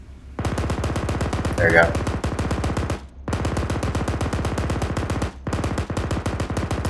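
Long bursts of rapid .50 caliber machine-gun fire from an AAV gunner in ArmA 3, loud steady rhythmic shots in three strings separated by short pauses, with brief radio-style talk over the middle.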